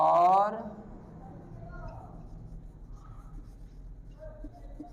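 Pen or chalk scratching across a writing surface during a chemistry lesson on hydrocarbons: soft, intermittent strokes after a brief spoken word at the start.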